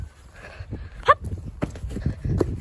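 A horse being ridden, its hooves clip-clopping in an uneven walking rhythm close by, with voices talking over the steps.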